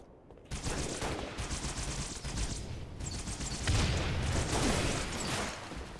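Close, loud volleys of Halo gunfire start after a brief quiet moment, then crackle in rapid bursts with punchy pops for several seconds, with no talk over them.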